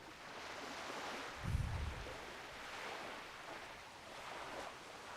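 A gentle, low-level ocean surf sound effect swells and recedes softly, with one brief deeper rumble early on and no voices.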